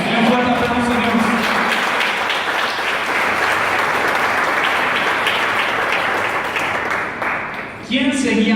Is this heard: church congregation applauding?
yes